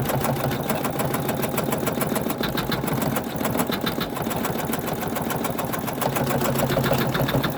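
An embroidery machine stitches out an in-the-hoop 3D star ornament on slick fabric, its rapid needle chatter running steady and close for the whole stretch without any talk.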